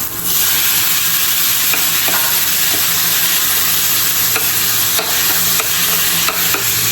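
Tomatoes and garlic sizzle loudly in a hot pan, with a constant close frying hiss and occasional scraping clicks of a spoon stirring, no voices over it.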